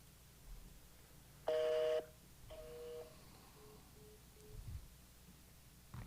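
Phone dialing tones for a call to a property seller: a steady two-tone beep lasting about half a second, then shorter, fainter tones and a few soft beeps over a quiet line, with no talking.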